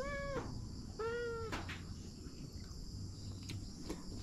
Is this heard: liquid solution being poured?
no